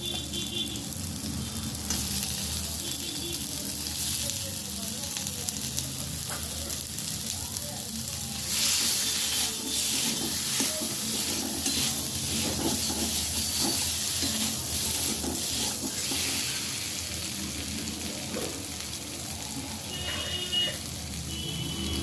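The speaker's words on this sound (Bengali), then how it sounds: "মশলাটা আমি ভালোভাবে ভেজে নেব। আমি এবারে সেদ্ধ করে রাখা আলুটা দিয়ে দিচ্ছি।" Spice paste and boiled potato frying in a pan for a banana flower fritter curry, with a steady hiss and sizzle and intermittent scraping of a spoon stirring, louder bursts midway, no voices.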